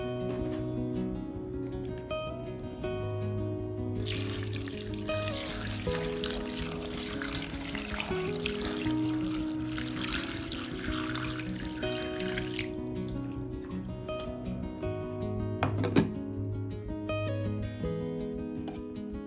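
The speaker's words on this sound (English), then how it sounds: "Transfer the prepared slices into a pot and cover them with cold water." Cold water runs from a tap into a pot over sliced lemons, a steady, fairly quiet stream with a brief louder splash partway through, heard alone under soft background music.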